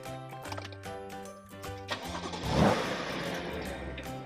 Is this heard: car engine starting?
yes